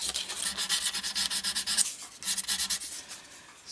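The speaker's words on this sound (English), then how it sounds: "I'm going to take that out and just sand it a bit" Sandpaper rubbing a small piece of a miniature 1:6 scale pen after a hole was drilled through it, quick rhythmic back-and-forth strokes, close and soft, with a brief pause midway.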